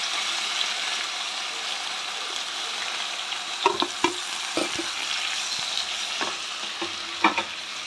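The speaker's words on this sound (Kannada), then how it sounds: "ಇದರಲ್ಲಿ ಟೊಮೊಟೊ ಒಂದು ಎರಡು ನಿಮಿಷ ಬೇಯ್ತಾ ಇದ್ಲಿ" Chopped tomatoes sizzle steadily in a little oil in a pan for chutney, a constant frying hiss broken by a few scattered spatula scrapes and taps partway through.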